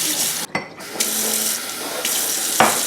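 Vegetables rinsed under a running kitchen tap, a loud close hiss of flowing water into a sink, broken by brief splashes and interruptions as the stream is blocked and released, with no talking.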